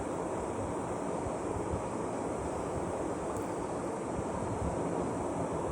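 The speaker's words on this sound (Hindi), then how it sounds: "यहाँ मैं ब्रेड को घी में फ्राई करूँगी।" Bread slices fry in hot ghee, giving a faint, even sizzling hiss that runs unbroken without any talking.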